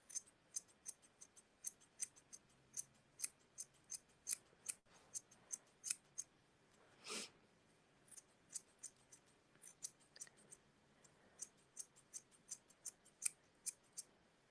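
Scissors snipping around a striped yarn pom pom to trim the mint stripe, quick crisp close snips in an irregular rhythm, one softer brushing swish midway, no talking.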